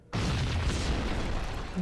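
An explosive-packed building blows up in Max Payne, a sudden loud boom that hits after a brief silence and rolls on as a sustained dense rumble, with no talk over it.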